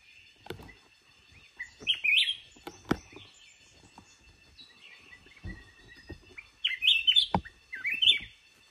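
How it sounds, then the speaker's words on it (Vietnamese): Wild birds sing in a forest in short, sharp chirping phrases that come in scattered bursts with pauses between them, clear and fairly close, with some soft clicks and no voices. "Mình sẽ đứng đây một lúc để mình nghe có con nào hót lại không."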